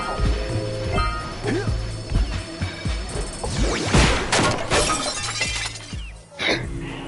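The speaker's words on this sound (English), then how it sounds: "That's such an aggressive glass breaking sound effect that they put on there" A breaking tower in the game Jak & Daxter lets out a loud, harsh glass-shattering effect with crashing debris. A voice talks over parts of it.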